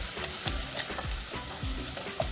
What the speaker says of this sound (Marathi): कांदा पण आपल्याला असं छान तेलामध्ये परतून घ्यायचा आहे